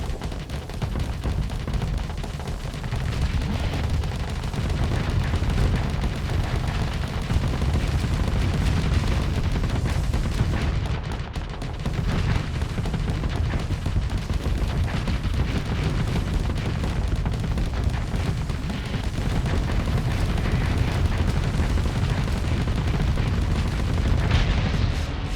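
Ship weapons and explosions in the space combat game Starsector roar as a dense, continuous barrage of booms and gunfire, loud and unbroken with only a brief dip.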